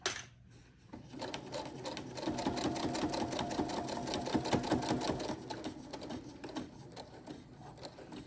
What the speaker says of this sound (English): So don't forget to stitch forward and reverse.